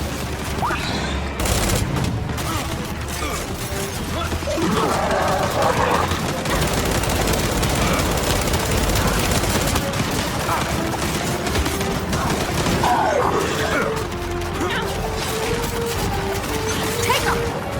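Sustained rapid gunfire and bursts of explosive impacts fill a Gears 5 firefight in a missile hangar, continuous and loud, with brief shouted voices and crashing effects mixed in.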